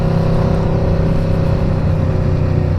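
An Aprilia RSV4 sportbike running a 520 chain and sprocket setup holds a loud, steady engine drone while being ridden, with a continuous wind-blown roar and no clear break for gear changes.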